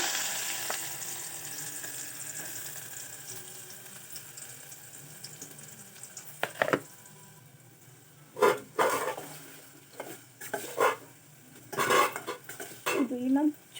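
Onion added to hot oil with cumin in a pan: a fairly loud steady sizzle fades gradually, then several sharp metallic scrapes and clanks of a spoon stirring against the pan in irregular bursts.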